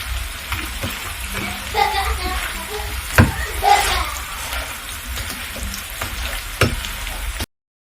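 Breakfast potatoes frying in a pan on a stovetop, a steady close sizzle running throughout with a few soft knocks and scrapes, under intermittent talk.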